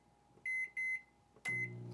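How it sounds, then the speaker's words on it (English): A microwave oven with a potato inside is set to cook, giving two short electronic keypad beeps, then a third beep as it starts and its low motor and fan hum begins, all close and clear. "put the potato into the microwave, just like that"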